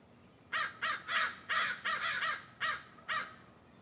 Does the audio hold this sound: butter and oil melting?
no